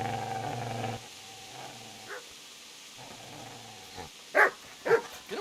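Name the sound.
dog barking and growling in the video game Kingdom Come: Deliverance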